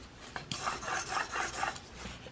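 A Sevr broadhead is sharpened on a 1200 grit stone with alternating flipping strokes, heard as a close run of quick, even raspy rubs, about six strokes in rhythm with no talking.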